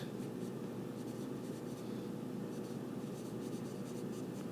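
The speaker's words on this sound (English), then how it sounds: "And I guess I can write it out too." A pen or marker writes steadily up close, a continuous scratchy scraping across the surface with short breaks between strokes, alone without talk.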